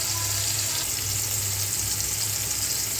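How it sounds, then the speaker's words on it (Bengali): Ground spice paste fries in a pan for a Bengali pomfret fish curry, giving a steady, even hiss at moderate volume with no voices. "ভাজা ভাজা হয়ে গেছে মশলাটা বাটা মশলাটা দিয়ে দিলাম"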